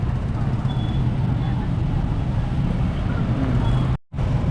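Steady roar of street traffic with tricycles on a busy road, dense and continuous, with voices faintly mixed in, briefly cutting out near the end.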